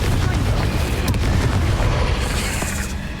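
A Bombarda blasting spell going off in Hogwarts Legacy, heard as a loud, sustained, rumbling explosive burst with heavy low-end boom and a couple of sharper cracks layered through it.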